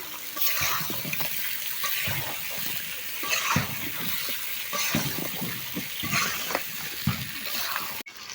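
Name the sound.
stirring potatoes into fried spice paste in a pan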